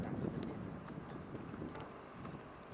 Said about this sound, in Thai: อากาศยามเย็นนะครับอากาศดีมากเลย ลมพัดเอื่อยๆ